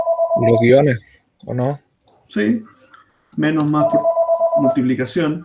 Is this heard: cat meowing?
no